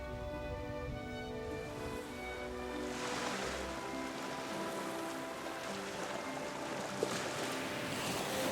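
Waves breaking along the Lake Michigan shore at the Indiana Dunes, a steady broad wash of surf with a faint tonal hum underneath, continuous and fairly close, with no voices.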